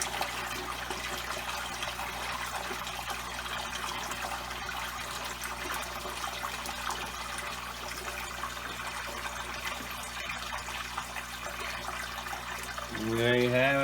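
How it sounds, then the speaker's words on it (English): Water runs steadily through a hose during a water change for a large set of aquariums, a continuous rushing trickle that holds level throughout, with a brief splashing rise near the end as the flow shifts. "You can see the water's moving pretty quick."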